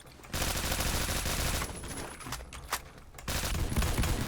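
Rapid automatic bursts of Honey Badger fire in the video game Phantom Forces, several sustained volleys broken by short gaps, loud and close, with no talking.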